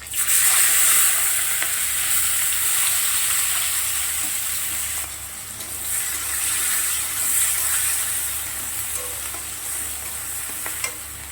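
Chopped onion sizzles loudly in leftover oil in a wok while it is stirred, a bright continuous hiss that swells and eases with the stirring.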